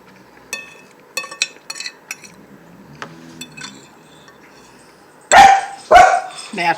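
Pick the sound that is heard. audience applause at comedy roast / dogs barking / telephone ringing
dogs barking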